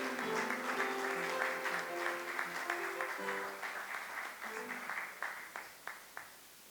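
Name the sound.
congregation applauding and acclaiming the Lord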